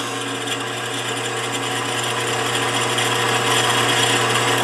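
A drill boring a stepped hole to hold tubing for a homemade hand engraving machine handpiece: a steady, close mechanical whine with a gear-like buzz that grows slightly louder, heard alone.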